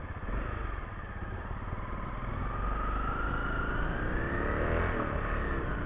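A trail motorcycle rides across the Mont Cenis dam wall in the Alps, its engine droning steadily and close throughout, with a rising whine toward the end.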